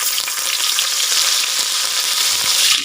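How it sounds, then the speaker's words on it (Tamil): Fresh curry leaves with cinnamon, stone flower and fennel crackle and sizzle in hot oil, a dense, bright, continuous frying hiss heard close up without speech. "எண்ணெயில் ஃப்ரெஷ்ஷாக உருவினா கருவேப்பிலை"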